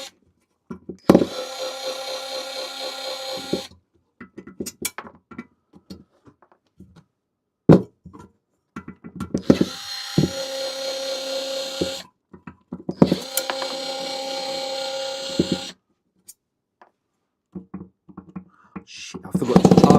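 A nearly flat cordless power tool runs in several bursts of a few seconds each, separated by clicks and knocks from an electronics repair bench, with the motor whine sagging as it slows.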